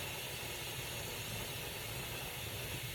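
A loud, continuous hiss of steam escaping under pressure from a canner, steady and unbroken throughout.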